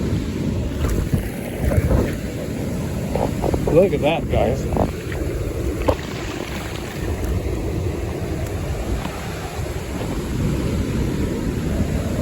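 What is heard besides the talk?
wind on the beach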